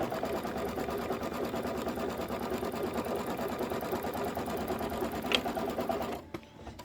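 Close sewing machine stitching the outer border of a table topper, a continuous rapid mechanical whir that runs steadily for about six seconds and then stops with a soft click.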